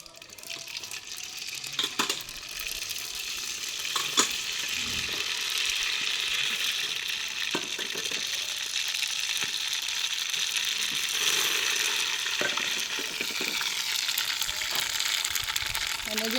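Spices crackle and sizzle in hot oil on a wood-fired chulha stove for handvo, a steady loud hiss with sharp clicks and pops throughout, with no talking.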